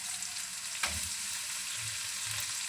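Chopped garlic fries in a hot pan for pancit cabagan, giving a constant close sizzle with a brief stir or scrape early on.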